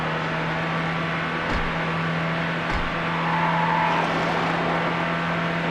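Race cars in the Need For Speed Hot Pursuit 2 video game drone at a moderate, steady level as they cross the finish line, with a constant engine hum and a couple of brief thumps, no voices.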